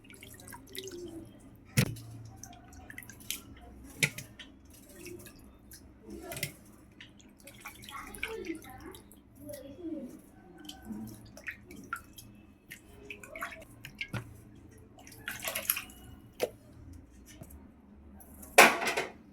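Pieces of fish are washed with water in a kitchen, heard as irregular drips, splashes and small clinks of a vessel, close and fairly quiet, with a sharper knock now and then.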